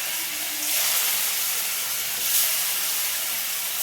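Pumpkin dhoka pieces dropped one at a time into hot oil set off a loud, hissing sizzle that swells with each addition and keeps frying steadily, close up.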